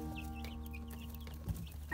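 A hen clucks softly in short, repeated notes over a steady low hum, with a few sharper calls near the end.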